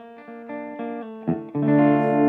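An electric guitar runs through a low-gain overdrive pedal for a subtle crunch: a few picked notes, then sustained chords ringing out with light grit, close and alone.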